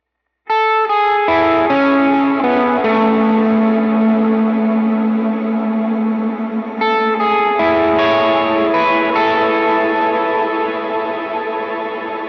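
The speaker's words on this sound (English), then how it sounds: "And with the effects, it'll sound like this." A What A God lead guitar line played through effects such as distortion, chorus, echo and reverb, with arpeggiated notes ringing into long sustained tones, loud and close.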